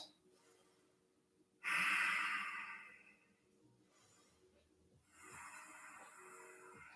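Deep breaths drawn during a side plank in a live legs and core workout, a loud rushing inhale followed by a softer exhale, then another breath a few seconds later, close and with no talking.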